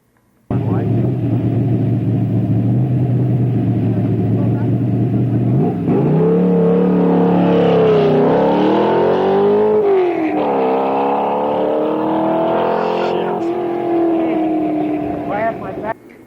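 An Altima kit car races up the Virginia City Hill Climb, its engine droning steadily before revving up and down through rising and falling pitch sweeps as it accelerates, loud and close throughout.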